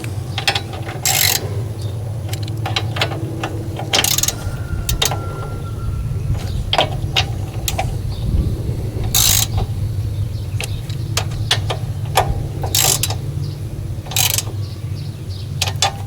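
Screws on the mixer assembly of a Generac generator are snugged up with a ratchet, giving close, crisp bursts of rapid clicking repeated in short runs over a steady low mechanical hum.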